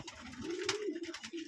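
A Lotan pigeon with heavily feathered feet, kept in a pigeon loft in cold weather, gives one soft, close, rolling coo that rises and falls, with faint low background rumble and no voices.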